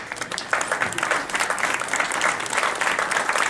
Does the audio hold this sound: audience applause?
yes